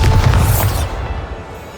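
A Bombarda spell blast in Hogwarts Legacy, a loud, deep explosive boom with no commentary over it. It hits at once, rumbles for about a second and then fades into a quieter tail.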